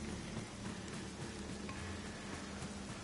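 Steady rain in the video game Returnal, a dense unbroken wash of falling water with a low rumbling bed, constant and fairly loud throughout with no voices.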